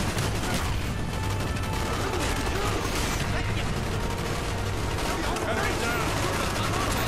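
Continuous dense bursts of machine gun fire in Call of Duty Black Ops, loud and unbroken throughout, with chatter from players mixed in underneath.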